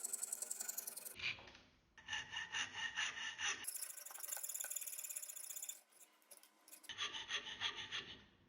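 A cheap $10 dovetail saw cuts through wood by hand in rhythmic rasping strokes, close and clear, with several bursts of quick back-and-forth sawing separated by short pauses.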